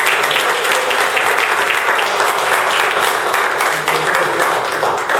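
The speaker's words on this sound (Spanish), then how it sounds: "Vamos a dar un fuerte aplauso a nuestro Señor Jesús." A church congregation claps loudly and continuously in praise during a worship service, a dense, even wash of applause filling the whole stretch.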